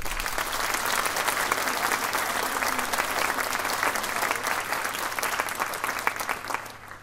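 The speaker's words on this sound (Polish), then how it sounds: "Poproszę o wielkie brawa." A full hall claps in sustained, even applause at a Polish folk music education concert marking the fifth anniversary of an arts project, with a faint crowd murmur underneath.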